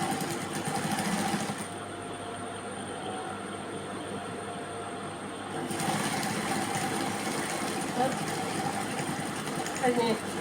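Domestic sewing machine stitching the slit section of a churidar: a steady mechanical whirr that runs, stops briefly in the middle, then resumes, with someone talking over it.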